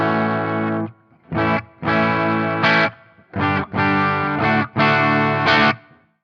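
Distorted electric guitar on the bridge pickup of a Charvel Pro Mod SoCal Style 1 with Floyd Rose, through an amp modeler, playing chords and short riffs, bright and crunchy, with brief pauses between phrases.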